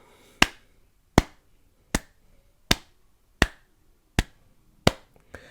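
A slow clap from a single person: seven sharp, evenly spaced claps about three quarters of a second apart, close and crisp, with quiet gaps between and no talking.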